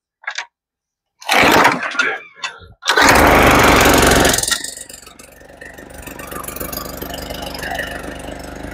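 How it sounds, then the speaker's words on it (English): A small gas engine on a log splitter runs while wood is split, starting with short loud bursts and sputters, then a steady, loud motor drone that eases slightly and keeps running alone to the end. "I'm gonna get back on this splitter"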